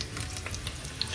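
Thin slices of food fry in a pan with a steady close sizzle, with a few crackling pops and a faint stirring scrape, and no voices.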